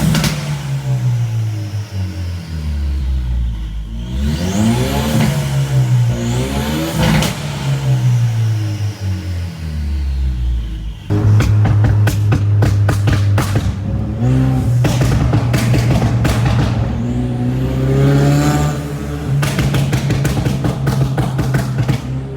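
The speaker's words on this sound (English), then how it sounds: "It came with an aggressive burble tune. So I'm going to let you guys hear that." An EcoBoost Mustang running an aggressive burble tune on E30 fuel revs up and falls back repeatedly, loud and close, with rapid popping, crackling exhaust burbles on each decel and no talk.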